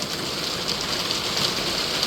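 Hail falling outdoors in Thailand, a dense, continuous hiss and patter of ice striking surfaces, steady and fairly loud with no voices.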